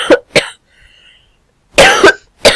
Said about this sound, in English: I'm actually coughing.